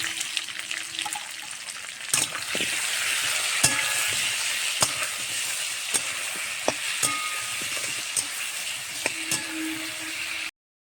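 Tomato and potato pieces fry in a pan with oil, giving a continuous close sizzle broken by sharp clicks and scrapes of stirring throughout, with no talking.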